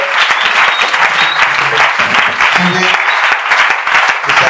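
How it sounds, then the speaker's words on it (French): A church congregation at a prophetic service applauds and cheers loudly, dense sustained clapping and shouting filling the space throughout, with voices calling out within the crowd. "Est-ce que tu peux acclamer très fort?"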